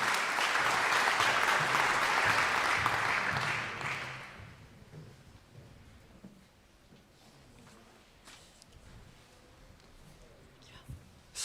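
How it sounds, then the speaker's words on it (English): An audience applauds in a welcoming round for a speaker at a Rumi poetry event, loud sustained clapping for about four seconds before fading to quiet room noise with a few faint knocks. "let's give him a welcoming round of applause"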